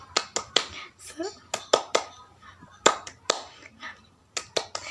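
A class joins in the rhythmic 'tepuk semangat' clap chant, sharp claps falling in quick grouped bursts with short pauses between them. Faint voices sit under the claps.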